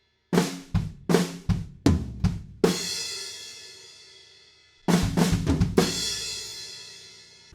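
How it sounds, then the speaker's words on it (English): A rock drum kit rattles off a quick run of drum hits into a big crash that rings out and decays, then kicks into a fresh burst of strikes and cymbals, the fill leading into the chorus. "the fill that leads us into the chorus sounds like this."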